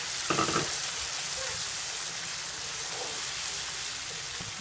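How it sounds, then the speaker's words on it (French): Shrimp sizzling in a hot pan as a small splash of water is added, a sharp burst of hissing at first that settles into a steady, close frying crackle with no talking. "je vais juste ajouter un tout petit peu d'eau"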